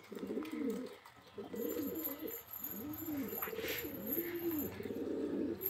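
A pigeon at a loft coos in repeated low, rolling phrases, close and fairly loud, with short pauses between calls and no talking.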